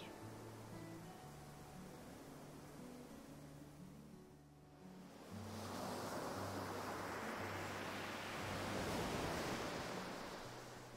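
Ocean waves rolling onto a beach, a steady broad wash that swells and recedes in a long continuous surge, fairly soft and close, with no voices over it.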